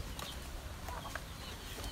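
Six-week-old KUB chickens kept in a farm coop, a few soft clucks and faint wing rustles scattered over a steady low background hum, fairly quiet and continuous.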